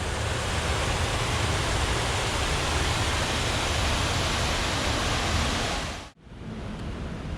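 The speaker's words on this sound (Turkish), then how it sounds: "Şehrin içinden geçen kanalın e, etrafından yüzlerce noktadan böyle su zerrecikleri püskürtülüyor" Water mist hissing from hundreds of spray nozzles set around a canal running through Kuala Lumpur, a steady loud broadband rush that cuts off abruptly near the end, leaving a quieter background.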